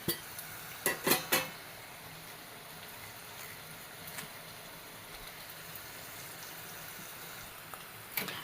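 A spoon clanks against a pan while chayote curry with tomato and spices is stirred, a cluster of sharp metallic taps at the start, then quiet sizzling, then a few more clinks at the end.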